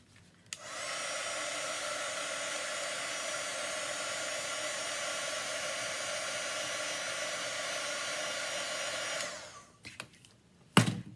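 A handheld dryer blows steadily on a chalk craft project, a loud, even whooshing drone that starts abruptly, holds for about nine seconds and then cuts off, followed by a few small handling knocks.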